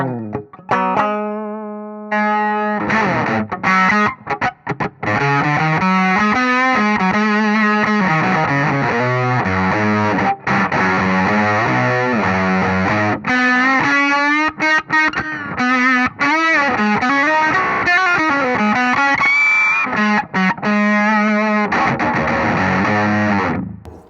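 An electric guitar plays through a heavy fuzz pedal, a Thermion Zero and an amp, sustained distorted notes and bends ringing loud, with short pauses between phrases.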